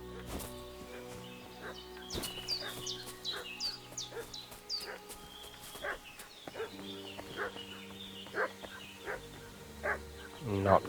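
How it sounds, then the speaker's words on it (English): A dog barks repeatedly in Kingdom Come: Deliverance II, sharp yips heard at a moderate distance over a medieval countryside ambience with birds and game music, while a voice speaks. "What's that dog making such a fuss about?"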